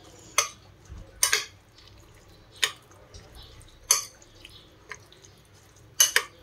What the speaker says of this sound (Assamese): মই গোটেইখিনি দি দিলোঁ আৰু এতিয়া এইখিনি ভালদৰে মিক্স কৰি ল'ম